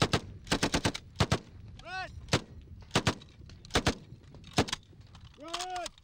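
An M60 machine gun fires short bursts in quick clusters, sharp cracks spaced across the scene along with separate whistling, whooshing effects, moderately loud in a combat setting.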